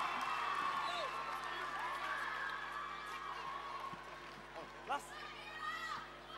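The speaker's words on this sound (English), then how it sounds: "Everyone, give them another round of applause." A crowd applauds and cheers for the Birrong cheer team at a Bring It On grand final, a steady roar of noise with scattered whoops and a sharp yell near the end, while voices talk over it.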